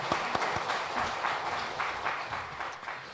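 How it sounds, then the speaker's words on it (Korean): A church congregation applauding steadily during a Sunday service, a broad wash of clapping with a few sharper claps standing out, no voices over it. "우리 다시 한 번 더 크게 박수 한번 해주시기 바랍니다."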